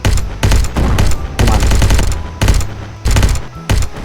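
Dense bursts of rapid automatic gunfire from many weapons at once in the battle game Ancient Warfare 3, loud and close, coming in repeated volleys with brief gaps between them and no talk.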